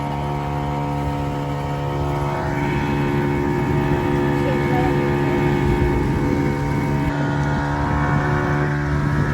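A motorboat engine drones loudly and steadily throughout on the sea off Zanzibar, with wind rushing across the microphone and water noise underneath.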